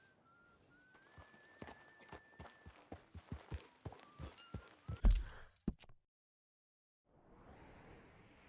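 A horse walking in Red Dead Redemption 2, its hooves clip-clopping in an even, close rhythm over a faint whistled tune, then stopping abruptly before soft ambient noise.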